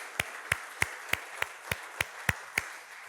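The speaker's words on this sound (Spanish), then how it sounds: "Dale un fuerte aplauso al Señor." A church congregation claps in applause during a Christmas service, nine evenly spaced sharp claps in a steady rhythm, close and clear with no talking.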